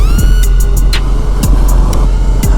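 Yamaha WR250R dual-sport dirt bike climbing a hill off-road, its engine droning loud and steady with repeated revving surges and gear-shift pitch swings, close and continuous with no talking.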